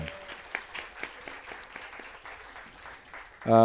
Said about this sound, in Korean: 우리 격려로 좀 박수를 두고 싶습니다